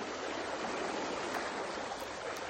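Water rushes steadily over Paygaon waterfall beside a flooded road, a dense continuous roar that stays loud and even throughout with no voices.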